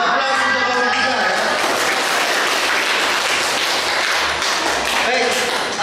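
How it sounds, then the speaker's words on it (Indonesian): A room of people applauds a group in a teacher performance test session, a dense, loud burst of clapping that fills the whole stretch, with voices mixed in underneath. "Ada aplaus untuk kelompok 3 ya."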